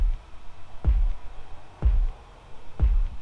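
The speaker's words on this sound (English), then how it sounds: "got these drums, kick on the ones and threes" A hard-hitting kick drum sits on the ones and threes of a simple trap-style beat, three deep booming hits evenly spaced about a second apart with a faint hum between; no talking.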